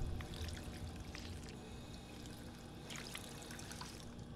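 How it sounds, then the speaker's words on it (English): Water fountain being drunk from in Fallout 4: a steady gurgling trickle and splash that runs evenly for several seconds at moderate loudness, with no talk. "Water fountain."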